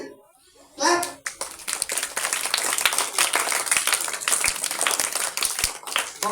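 Children clapping together in a school setting, a burst of many hands in uneven rapid claps after a brief spoken prompt, fairly close and sustained.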